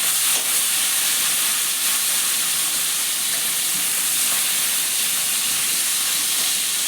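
Fish head frying for moong dal with bay leaf, a steady loud hiss and sizzle holding constant throughout with no talking.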